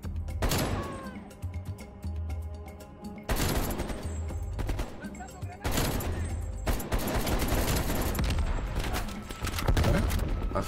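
Dense bursts of automatic gunfire from Call of Duty Black Ops Cold War gameplay, loud sustained rattling volleys with brief gaps and booms, a voice speaking occasionally underneath.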